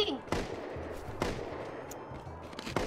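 Gunfire in the video game Rust, a few faint, sharp shots spaced out over a low background hum, fairly distant and quiet.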